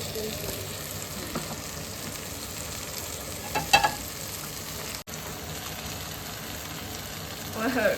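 Rice added to a hot pan for Chinese fried rice: steady frying sizzle with a brief burst of stirring clatter midway and rising sizzle at the end, fairly quiet, with faint voices nearby.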